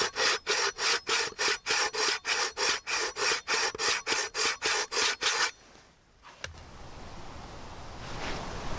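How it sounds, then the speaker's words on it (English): Steady, rhythmic rasping strokes of a coarse 300-grit diamond sharpener filing the edge of a bushcraft machete, about sixteen close, loud back-and-forth passes, then a pause and a softer rustling scrape. "I'm going to use a diamond sharpener. Got on one of the coarser grits, got on 300."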